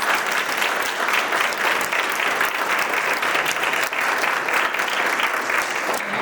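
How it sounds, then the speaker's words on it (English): Sustained, dense applause from a conference audience honoring panelists at a human trafficking panel, a loud, even wash of many hands clapping without a break. "Let's give them a round of applause"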